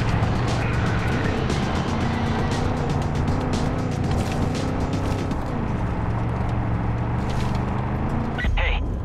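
A car in the Far Cry 5 video game driving away, a continuous loud engine roar with road noise and clattering under speech, ending with a brief sharp knock.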